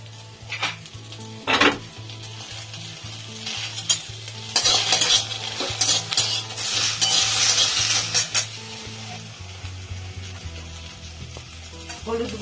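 Drumstick stems frying in oil and stirred with ginger paste for a vegetarian moong dal dish, a continuous sizzle under repeated metal spatula scrapes and clinks against the pan, with louder bursts of stirring in the middle.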